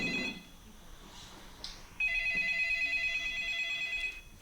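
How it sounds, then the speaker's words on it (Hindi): A telephone rings in a stage play setting, a steady electronic ringtone pattern starting partway through and repeating clearly until it cuts off near the end, with no talking over it. "मुझे डिम्पल का फोन आ रहा है"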